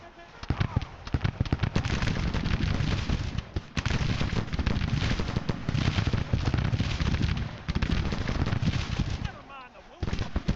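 Dense musket and rifle volleys in the Grand Tactician Civil War strategy game at the Battle of Winchester, continuous rapid crackling gunfire with brief lulls, loud and close, with shouted voices mixed in.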